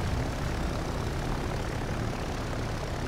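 Dive bomber aircraft engines in a naval war video game give a dense, continuous propeller drone with heavy low rumble. It is loud, steady and unbroken throughout, with no voices over it.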